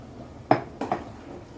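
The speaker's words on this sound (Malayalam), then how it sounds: "നല്ല രീതിയിൽ ഇളക്കാം" A spoon knocking and scraping in a pot while boiled tapioca is mixed with salt, three distinct metallic clanks over a second and a half, close and fairly loud with no voices.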